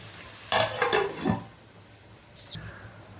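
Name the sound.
stirring onions frying in a pan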